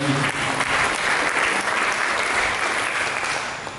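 A congregation claps steadily for a few seconds, a dense, even patter of many hands filling the room.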